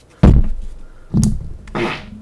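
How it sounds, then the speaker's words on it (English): Three loud, close farts in quick succession, each a short low rumbling burst with a wet, sputtering tail, the last one longer and raspier. "Preliminary farts."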